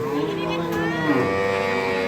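A cow moos at a Dinajpur cattle market, one long, loud, drawn-out low call close by, with market chatter in the background.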